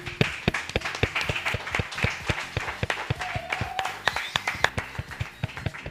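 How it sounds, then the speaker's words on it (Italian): Audience applause at a live podcast recording in Ponte San Nicolò, a burst of clapping hands that stays steady and fairly near for several seconds. "Quindi un applauso al Baracca"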